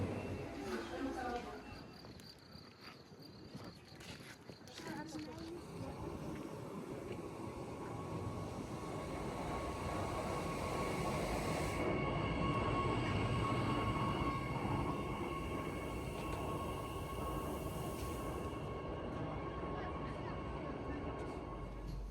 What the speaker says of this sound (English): you hop on this electric rack railway